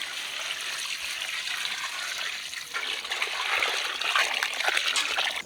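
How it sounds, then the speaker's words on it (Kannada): Water splashing and trickling steadily into a pot of turmeric-spiced country chicken curry, a continuous close pour that grows slightly louder toward the end. "ನೀರು ಹಾಕೊಂಡು ಚೆನ್ನಾಗಿ ಬೇಯಿಸ್ಕೊಳ್ಳೋಣ"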